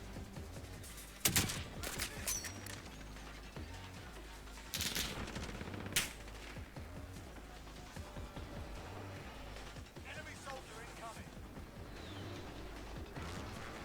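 Rifle shots ring out in Call of Duty Warzone, including a Dragunov sniper rifle, with a few loud sharp cracks spaced seconds apart and quieter mechanical clicks and distant gunfire between them.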